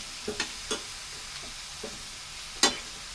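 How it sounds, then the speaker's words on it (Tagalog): Lumpia filling seasoned with soy sauce being stir-fried in a pan: a few sharp spatula scrapes and clacks over a faint, steady sizzle, with one louder scrape near the end and no talking. "Lutuin ko lang to ng kaunti"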